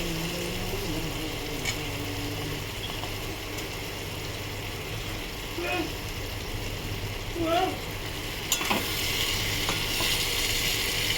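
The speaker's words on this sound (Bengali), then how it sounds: "এবারে আমি এই মাছগুলো দিয়ে দেবো।" Papda fish dropped into a hot pan of oil, a steady low sizzle with a few brief clinks and stirring scrapes in a home kitchen; there is no talk.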